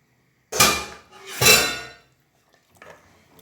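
Chicken pieces tipped into a pot of gravy inside a pressure cooker for a homestyle Kerala chicken curry, giving two loud, close clattering bursts followed by faint clinks.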